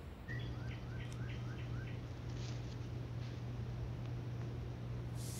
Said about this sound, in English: It's just birds tweeting.